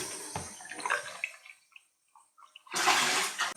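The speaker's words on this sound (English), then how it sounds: "Rinse our container again." Water splashes and runs while a Thomas Aqua vacuum cleaner container is rinsed, a short gush at first, a brief quiet gap, then a louder rushing pour to the end.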